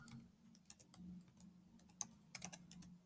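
Quiet, irregular keystrokes tap on a computer keyboard, clustered in short bursts of clicks with small pauses between, close and faint against a soft low hum.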